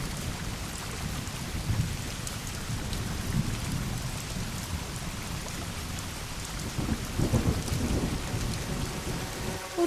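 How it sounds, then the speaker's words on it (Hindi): Heavy rain pours down amid a thunderstorm, a dense, loud hiss of rain on surfaces with rolling thunder rumbling through it and swelling near the end; no speech. "अचानक से वो भारी बारिश एक भयानक बाढ़ का रूप ले लेती है"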